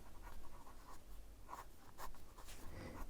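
Chalk writing on a classroom board, a continuous scratchy scrawl of short strokes up close, steady for about three seconds with no voices.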